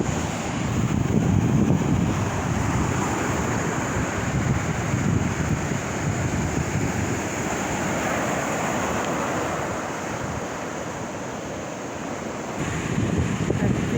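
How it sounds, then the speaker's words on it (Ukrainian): Sea waves wash steadily onto a beach at Agios Gordios, Corfu, Greece, a continuous rushing roar with wind buffeting the microphone, and no voices. "А зараз буде релакс. Шум хвиль."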